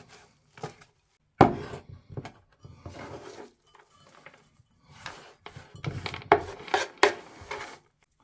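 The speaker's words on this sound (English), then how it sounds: "Just give it a rough chop, set it to one side." Knife roughly chopping aubergine stalks on a chopping board, irregular clusters of sharp wooden knocks and scrapes at close range, with pauses between bursts and no talk.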